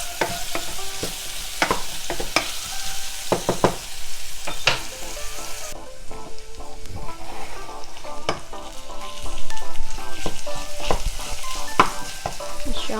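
Onions fry in a pot for beetroot soup, a loud close sizzle broken by frequent sharp clicks and scrapes of a spoon stirring, continuing without speech.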